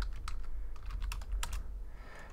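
Typing on a computer keyboard, a quick run of sharp key clicks at close range over a low steady hum, easing off near the end.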